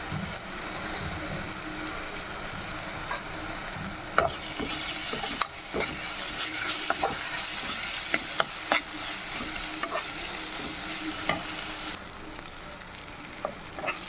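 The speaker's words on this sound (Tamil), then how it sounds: "இது நல்லா பச்சை வாசம் போகிற வரைக்கும் வதக்கிக்கலாம்." A ground paste of ginger, garlic, coriander and mint sautéing in a pan for chicken kurma, a continuous sizzle with repeated scraping and clinking of a spoon stirred through it.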